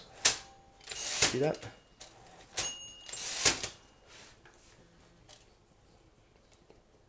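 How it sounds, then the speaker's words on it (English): An old manual typewriter clacks through a few sharp, close key strikes and carriage noises in short bursts, with a brief spoken remark in between. "But this is a really good typewriter."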